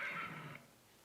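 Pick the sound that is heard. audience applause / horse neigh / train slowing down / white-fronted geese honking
horse neigh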